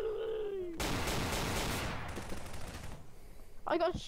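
Gunfire in the video game Garry's Mod Prop Hunt, a dense burst of rapid shots lasting about two seconds that then tapers off, with a voice heard before and after it.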